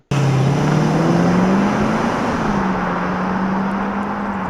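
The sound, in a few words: Lexus LS430 car driving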